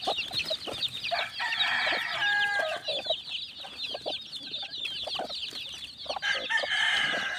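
Chicks eating feed give a dense chorus of high, rapid peeps and chirps, close and lively, overlapping continuously with soft pecking clicks beneath.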